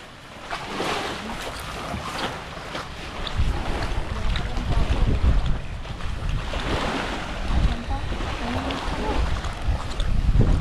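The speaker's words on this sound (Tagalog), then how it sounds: "Ayan, lakas din ng hangin." Strong wind buffets the microphone in uneven gusts on Borawan Island, Padre Burgos, Quezon, with low rumbling roar and surf-like wash in the background, no clear talk.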